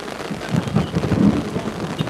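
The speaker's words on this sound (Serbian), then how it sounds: "Grmi u Jelencu" Thunder rumbles low and muffled during a heavy rainstorm at a football match, with the steady hiss of pouring rain underneath for a couple of seconds.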